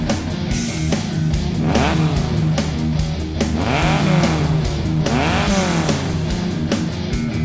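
A Volkswagen Mofoco 1914cc dune buggy engine runs loud and close, revving up and down repeatedly in rising and falling sweeps with a raspy air-cooled roar.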